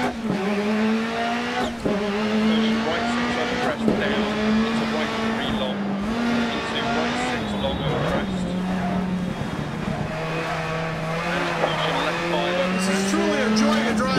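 A rally car in the video game Dirt Rally drives hard, its engine droning loudly and steadily with shifting pitch and brief tire scrabble, while a voice talks over it.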